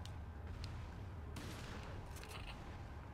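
Gunfire in Resident Evil 4, a low rumbling burst of shots and booms under a continuous game soundscape, fairly quiet overall with no voices.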